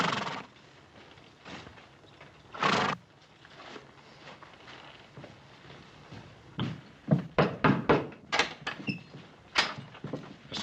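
Several cavalry horses arrive in a row of hoof thuds, with loud clustered clops building toward the end after a quieter start and one earlier strong burst.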